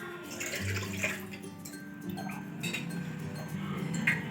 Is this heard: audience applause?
no